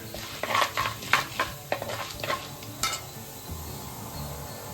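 Urad dal stirred and frying in a pan for adai dosa, with a soft sizzle and repeated scraping spoon strokes for the first three seconds, then quieter low bubbling, close and without voices.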